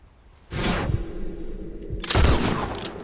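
Two heavy rifle shots in Red Dead Redemption 2 while hunting a legendary elk, about a second and a half apart, each with a booming low end and a brief ringing tail, with game sounds between.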